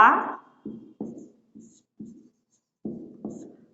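Pen or chalk strokes land in short separate bursts with brief pauses between them, close and clear, while someone writes out Hindi grammar notes by hand.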